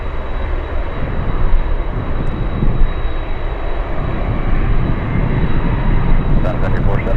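A Piper propeller airplane passes with a loud, steady engine drone that fills the whole stretch, with people talking over it.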